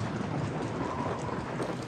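Steady rain in the video game Watch Dogs, a dense continuous hiss of falling drops with a low rumbling undertone, even and unbroken throughout with no talking.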